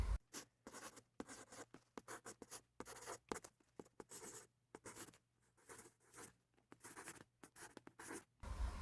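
A pen scratches across paper while a physics problem on vertical launch is worked out by hand. Quick, irregular strokes and taps come close and quiet, separated by brief pauses, with no talking.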